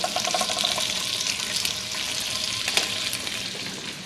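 Small pieces of breakfast food fry in a greasy pan, giving off a loud, constant sizzle and crackle with occasional spatters, heard up close without any voices.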